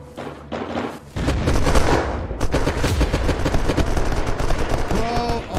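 Gunfire in the video game Unturned, a dense continuous stream of rapid shots and bursts, loud and close, with a voice heard briefly near the end.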